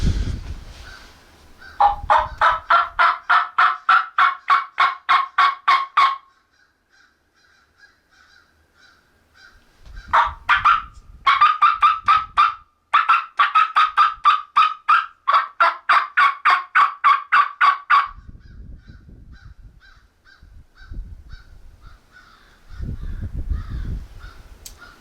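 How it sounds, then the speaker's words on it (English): Wild turkey gobbling during a Pennsylvania turkey hunt, loud rapid rattling gobbles in several bursts separated by quiet gaps, with faint rustling between them outdoors. "I just had a bird gobble"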